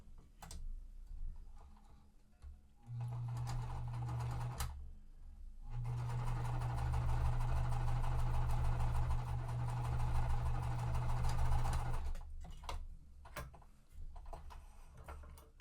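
A sewing machine stitches quilt pieces in two runs, a steady close mechanical whir and rapid ticking, the first run short and the second longer, with light handling clicks around them.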